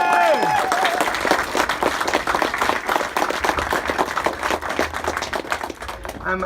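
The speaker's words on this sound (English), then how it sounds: "So give yourselves a big round of applause." A crowd at a medical cannabis rally speech in Athlone breaks into applause, dense rapid clapping at steady loudness with a brief voice at the start and a few individual claps standing out.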